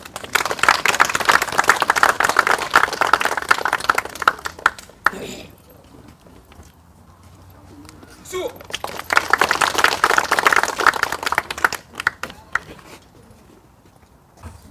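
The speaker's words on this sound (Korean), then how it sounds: "큰 박수로 맞이해 주십시오" An audience at a memorial ceremony for a special forces unit at the Seoul National Cemetery bursts into two rounds of clapping, each a few seconds long, separated by a quieter stretch.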